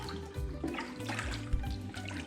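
Green beans being rinsed in water, with continuous splashing and sloshing as the pods are stirred around by hand, steady and close throughout.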